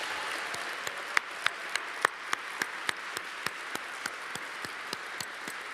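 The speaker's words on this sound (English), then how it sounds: "So I think we owe her another round of applause." Sparse, fading applause from a luncheon audience after a keynote by the SEC chair, with a few distinct, evenly spaced hand claps standing out over a soft, steady background wash of clapping.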